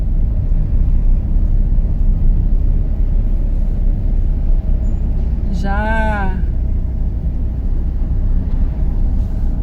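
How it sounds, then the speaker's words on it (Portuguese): A truck drives ahead on a curving road, a steady loud engine and road rumble heard from inside a following vehicle, with a brief voice and a rising-falling tonal sound near the middle. "Ó, mais um caminhão na frente dele lá."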